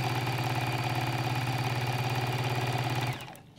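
A Juki DX5 sewing machine runs at high speed, its fast, even mechanical whir loud and close for about three seconds before it abruptly stops.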